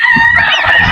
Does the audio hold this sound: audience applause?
no